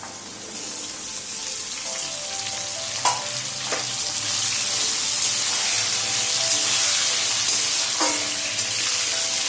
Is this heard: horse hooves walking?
no